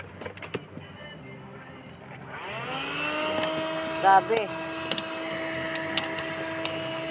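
A vacuum cleaner motor spins up after a few seconds and keeps running with a steady whine, close by, while people talk and exclaim over it.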